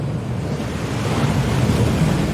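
A waterfall in Hogwarts Legacy rushes as a constant, loud, dense roar of falling water, steady and unbroken throughout with no voices.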